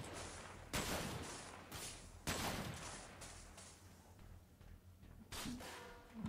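Gunfire in the shooter video game Sophonce, a few sharp, loud shots and bursts separated by short gaps, with a quieter stretch in between, no talking.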